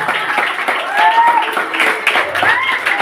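Students and guests at a school student-council inauguration clap together in a brief, steady round of applause, with some voices and tonal sounds mixed underneath.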